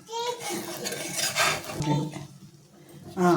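A spoon stirs tomato rice in a pot, producing a few soft scraping and clinking strokes against the metal, with a voice and faint talk in the background.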